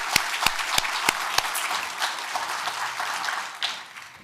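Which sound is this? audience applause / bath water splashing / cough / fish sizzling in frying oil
audience applause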